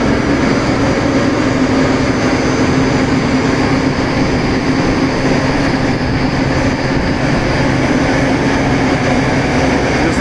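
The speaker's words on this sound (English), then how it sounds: "This is the ID fan running at a high speed." An induced draft fan on a dust extraction system running at high speed, its electric motor covered, gives a loud, constant roar with a steady hum that fills the whole stretch without a break.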